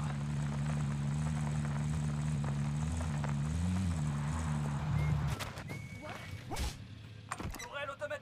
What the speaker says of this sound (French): Drone ennemi au-dessus.